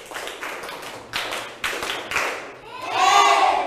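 A class of students claps hands in a set of one, two and three claps, a few sharp bursts spaced apart, followed by a louder stretch of children's voices near the end.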